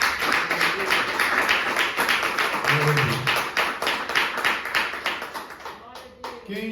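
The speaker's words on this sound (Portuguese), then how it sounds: "Jesus merece aplauso." Church congregation clapping at a wedding service, a dense, steady round of applause filling the room, with a few voices faintly underneath toward the end.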